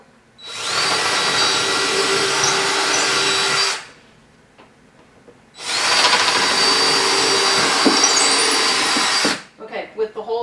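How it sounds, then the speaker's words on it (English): A power drill with a 1/2 inch bit whines loudly into a wall in two long sustained bursts separated by a brief quiet pause, close up, with a few soft knocks at the end. "now I'm going to drill with a 1/2 inch drill so that the toggle bolts fit."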